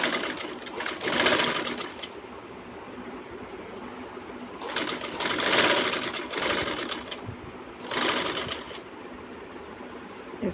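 A sewing machine stitches piping onto a dress in three separate runs of about one to two seconds each, close and steady, with quiet pauses between them.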